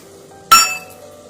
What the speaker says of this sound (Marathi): आपण आता हे मिक्सरच्या भांड्यामध्ये टाकणार आहोत